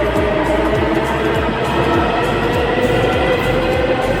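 A Delhi metro train running on its line, a loud continuous rumble with a steady rhythmic clack of wheels over rail joints repeating every half second, no voices.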